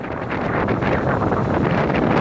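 Strong wind roars continuously across the microphone with a steady, full rumble, mixed with the wash of waves close by at the sea.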